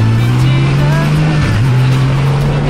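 Steady low rumble of a stock exhaust on an air-cooled six-cylinder 1000cc Honda CBX motorcycle idling, a deep even drone with a brief dip in pitch midway, loud and close.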